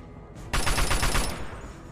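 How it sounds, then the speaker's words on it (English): Rapid gunfire from Fallout: Tale of Two Wastelands cracks out as a burst of about five to six loud shots in quick succession, following a moment of quieter game ambience. "Wow, none of those shots hit."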